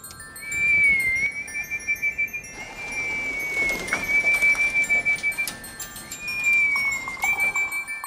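Pigeons returning to their loft, with a few soft bird calls and flutters against a high steady whistling tone that repeats in bursts, fairly close and without speech.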